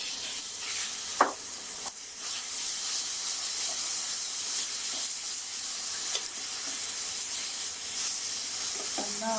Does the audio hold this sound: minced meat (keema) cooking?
yes